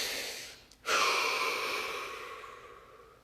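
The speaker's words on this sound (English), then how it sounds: "Deep breath." One slow, deep breath: a brief catch, then a long, soft exhale that fades over a few seconds in a quiet room.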